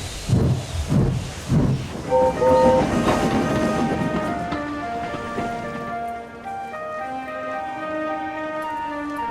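Steam engine train chugging along the rails in a children's railway story, rhythmic clattering puffs giving way to a sustained whistle-like tone that fades as it moves off, with no talking.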